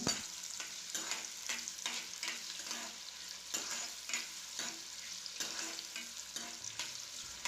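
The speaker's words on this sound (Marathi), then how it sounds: "यामध्ये घालून घेऊया कांदा दोन कांदे आपण बारीक चिरून घेतलेले आहे ते घालून चांगलं परतवून घ्यायचे आहे" Finely chopped onion sautés in a cumin tempering, a soft steady sizzle broken by a regular series of scraping stirs, close and with no voices.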